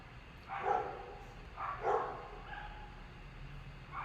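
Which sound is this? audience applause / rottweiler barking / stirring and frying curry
rottweiler barking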